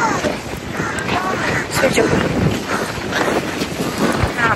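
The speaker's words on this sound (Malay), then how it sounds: "Angin dia sumpah kuat." Strong wind buffets the microphone at a beach, a loud, steady roar filling the whole clip with gusty swells, while people talk over it.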